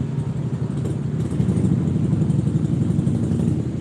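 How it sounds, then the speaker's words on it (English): Steady traffic noise on a street, cars and engines rumbling past in a continuous low drone with no talking. "Why so many cars and shit?"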